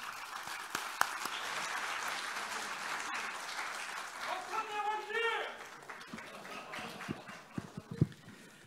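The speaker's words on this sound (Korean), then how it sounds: "당선 인사를 여러분의 힘찬 박수로 청해 듣겠습니다." Assembled party lawmakers applaud the newly elected floor leader, Park Chan-dae, after his election: a steady, full wash of clapping that holds throughout, with a brief voice rising over it midway.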